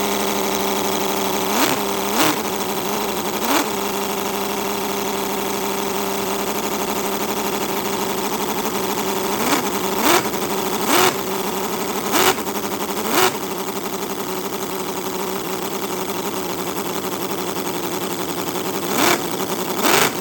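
A Cison V8 model engine runs, a steady close mechanical drone with an idling hum, punctuated by short periodic revving bursts throughout.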